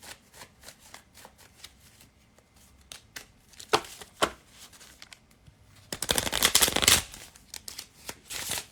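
Cards riffled and shuffled close up: scattered soft flicks and snaps, then a dense, loud riffle lasting about a second.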